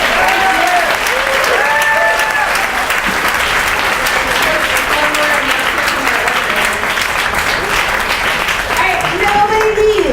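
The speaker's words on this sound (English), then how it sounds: "Just another huge round of applause." Sustained, loud audience applause fills a New York City town hall on the Green New Deal, a dense continuous wash of clapping with a few voices and whoops rising over it throughout.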